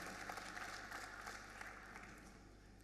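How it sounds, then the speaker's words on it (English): Attendees at a ministerial transport conference session give a brief, faint round of applause, scattered clapping over a steady low room hum. "Please give him a round of applause."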